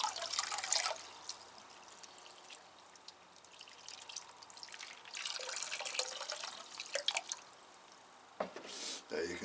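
Feed water is poured onto a potted plant's soil, avoiding the leaves, producing faint trickling and dripping with splashy bursts near the start and end, under quiet background noise.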